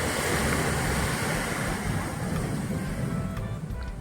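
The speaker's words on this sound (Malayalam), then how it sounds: "തീരത്ത് തിരക്ക് കുറവായിരുന്നുവെങ്കിലും കടൽ അത്യാവശ്യം പ്രക്ഷുബ്ധമായിരുന്നു" Rough sea waves break at Cherai beach, producing a loud, continuous roar of surf that is buffeted by wind noise on the microphone, with no voices present.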